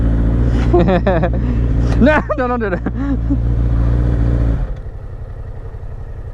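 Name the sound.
Yamaha R6 Street Fighter motorcycle revving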